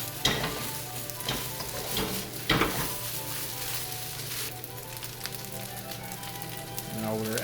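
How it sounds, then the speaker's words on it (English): Rice with egg stir-fried in a pan, with a steady hiss of sizzling oil and repeated scraping and tossing strokes of a utensil against the pan, close and continuous. "you want to keep mixing up the rice so it's properly incorporated"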